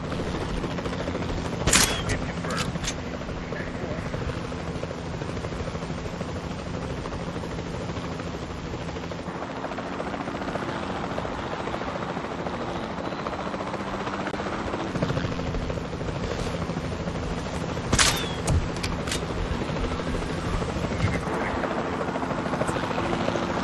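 A capture team helicopter in the dinosaur park game Jurassic World Evolution drones steadily throughout, its rotor wash a continuous near roar, punctuated by a few sharp gunshot-like tranquilizer cracks.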